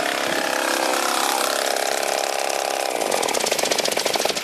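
A 49cc Eggmotor engine runs with a loose exhaust, giving a harsh rattling buzz that roughens into rapid pulsing, metallic clatter near and loud throughout.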